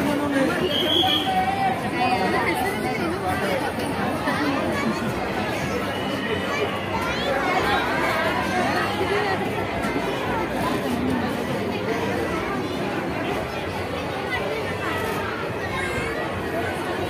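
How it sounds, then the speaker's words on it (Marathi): Dense crowd chatter fills an underwater fish tunnel expo in Pune, a steady babble of many voices close around with no pauses throughout. "ही बघा, ही गर्दी इथली,"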